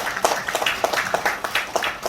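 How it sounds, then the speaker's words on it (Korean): Brief applause at a newspaper-hosted global leader academy lecture in Gwangju, welcoming the newspaper's chairman; a short burst of scattered clapping from the audience, fairly soft and without talk. "뜨거운 박수 부탁드리겠습니다."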